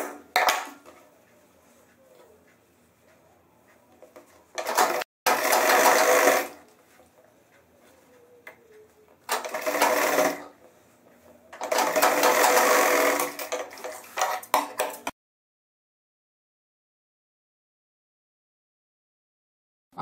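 A sewing machine stitches a double-piped back pocket onto a pair of trousers in short, loud, whirring bursts, about four runs separated by quiet pauses with faint handling sounds. It then falls to silence.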